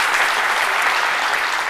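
Studio audience applause on a French television talk show, a dense, steady wash of clapping that holds evenly at full level from start to finish with no voices over it.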